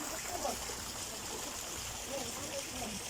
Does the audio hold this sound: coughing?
no